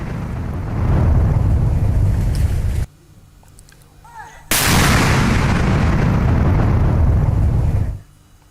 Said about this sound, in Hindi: पाकिस्तान के बंकर को किस तरह से सटीक निशाना लगाते हुए उड़ा दिया गया।